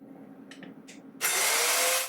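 A Hychika mini circular saw cuts wood. A few faint clicks and handling noises are followed by the motor starting abruptly into a loud, steady, high whining roar that continues to the end.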